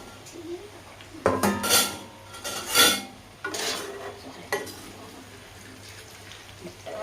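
Egg and potato fry being stirred in a pan after coriander leaves go in, with several loud bursts of scraping and clattering spoon strokes against the pan over a low sizzle, close by.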